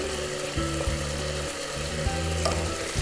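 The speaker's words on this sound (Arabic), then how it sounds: "هنحط شوية مية للصلصة اللي عندنا بس شوية علشان تمرق شوية" Tomato sauce for shell pasta with chicken and basil simmers and sizzles steadily in a pan after a little water is added, with faint clinks and stirring scrapes and no talk.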